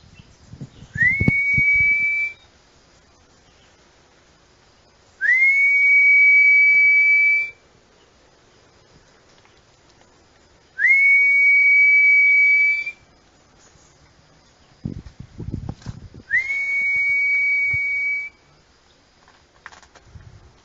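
A man whistles to imitate bird calls and attract birds: four long, clear, rising-then-held whistled notes spaced a few seconds apart, loud and close, with faint clattering between them.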